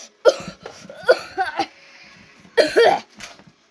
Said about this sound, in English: Just coughed out some blood.